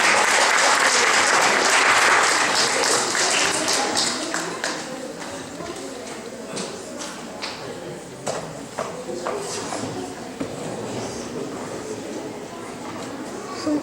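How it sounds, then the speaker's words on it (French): At a school spelling bee, the audience claps for the contestants: loud, dense applause for the first few seconds, then thinning to scattered individual claps and taps. "On les applaudit, s'il vous plaît, ça les encourage"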